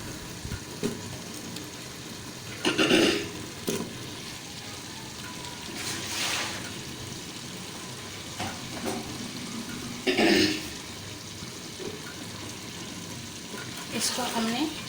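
Potatoes frying with tomatoes and spices in a pot for aloo phali sabzi, a low steady sizzle broken by several louder bursts of stirring and scraping spaced through the clip.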